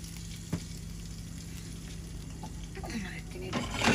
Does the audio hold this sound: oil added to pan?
yes